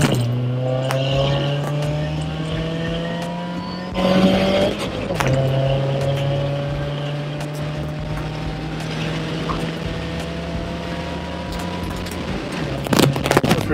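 A supercharged four-cylinder car engine runs with a rising supercharger whine that climbs in pitch, drops briefly, then climbs again under hard pulls, loud and close throughout.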